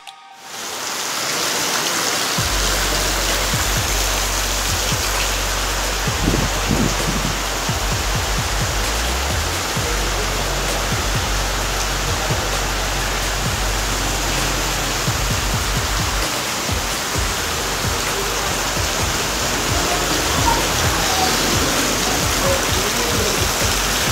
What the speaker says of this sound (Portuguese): Nunca vi uma chuva desse jeito, nunca vi na minha vida.